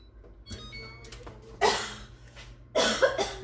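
A person coughs in a home kitchen, two loud, harsh bursts about a second apart after some faint handling noises and a quiet background hum.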